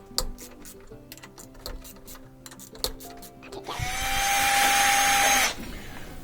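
A power drill whirs steadily for a couple of seconds after a stretch of light ticking and metallic clicks, fairly close, removing 10mm bolts from an LG washing machine with an LE error.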